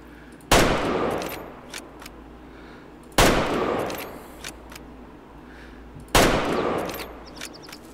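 Hunting rifle shots in the game Way of the Hunter, three loud single reports spaced about three seconds apart, each with a sharp crack and a short rolling echo tail over quiet outdoor ambience.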